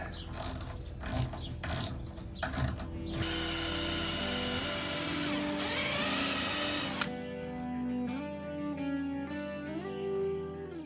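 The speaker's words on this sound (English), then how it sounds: "I'm just gonna make a pilot hole so I can get the saw in there to jigsaw the hole out" A power drill bores a pilot hole in the seat of a homemade thunder box toilet. Choppy mechanical bursts lead into a loud, steady grinding whir, then the motor's pitch rises and falls as the drill slows and speeds.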